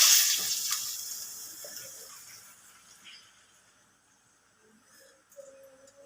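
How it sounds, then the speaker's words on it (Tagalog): Water poured from a glass into a cooking pot for chicken tinola, a splashing pour that fades over a few seconds, followed by faint clinks near the end. "Lagyan natin siya ng tubig."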